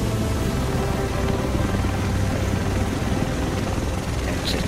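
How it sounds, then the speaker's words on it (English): Steady, loud rotor and engine roar of a helicopter arriving in The Division, a constant dense wash of noise that holds for several seconds without letting up. "A chopper"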